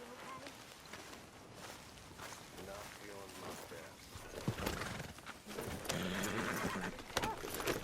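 Horses in the video game Red Dead Redemption 2 whinny and clip-clop at a gallop, hooves drumming steadily beneath dense game ambience and music, growing louder toward the end, with voices speaking over parts of it.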